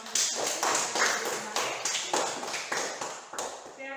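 A classroom group is applauded with brisk, rhythmic clapping, regular bursts of claps close by that keep going for several seconds.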